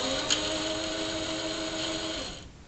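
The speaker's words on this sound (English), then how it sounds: "keep winding up your bobbin until it hits this white tip" A Singer sewing machine whirs steadily as it winds a bobbin, a continuous high mechanical hum that winds down and stops near the end.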